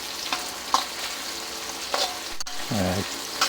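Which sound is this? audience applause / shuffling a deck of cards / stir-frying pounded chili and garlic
stir-frying pounded chili and garlic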